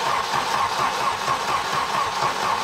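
An old Volvo car engine that had sat unused for six years, caught running at a steady, loud close rumble that holds evenly throughout with no talking.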